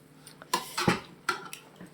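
A metal spoon scrapes and clinks against a pan while dry fruit laddu mixture gets a final stir, giving irregular close knocks and rattles with short pauses between.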